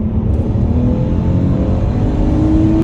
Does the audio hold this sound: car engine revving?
yes